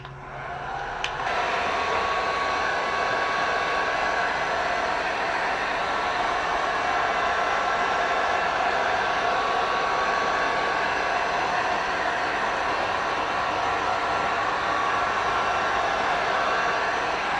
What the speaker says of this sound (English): take the heat gun and try to flow out and smooth the surface of the second coat